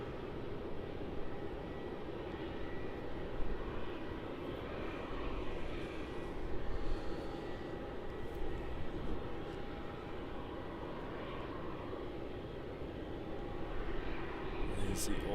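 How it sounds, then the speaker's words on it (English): A Singapore Airlines Airbus A350 jet at Melbourne Airport roars steadily as it passes, a broad continuous engine rumble heard from a distance with people talking faintly nearby. "here comes that Singapore Airlines A350"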